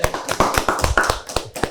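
Several people clap at a formal event marking International Day of Persons with Disabilities, crisp hand claps in an uneven, scattered rhythm, close and fairly loud with no voices.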